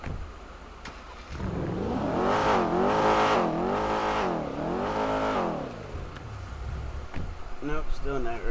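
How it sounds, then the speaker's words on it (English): A car engine revs loudly several times in succession, each rise and fall in pitch clear and close, during a tense dispute between neighbors. "Aggravating him more by trying to rev your engine."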